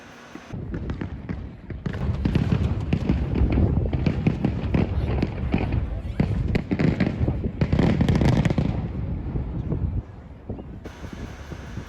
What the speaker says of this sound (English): a prime view of the fireworks competition from Plymouth Hoe